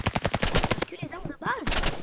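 Rapid automatic rifle fire in a video game: a loud, evenly spaced burst of shots, a short pause with other game sounds, then another quick burst.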